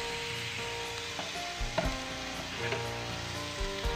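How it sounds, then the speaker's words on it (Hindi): Small chicken pieces frying in oil in a frying pan, a steady close crackling sizzle with a few sharper pops and stirring knocks. "चिकन हम फ्राई कर लेंगे।"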